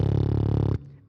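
A voice imitates the engine of an imaginary bike with a low, buzzing lip-trill rumble, like beatboxing into a mic, held steady for under a second and then cut off abruptly.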